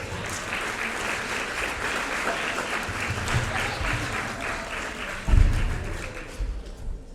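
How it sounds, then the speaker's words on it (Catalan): Sustained audience applause at an awards ceremony at Pla de Montserrat, steady dense clapping at moderate loudness, with a few thumps near the end as it tapers off. "un aplaudiment per a allà"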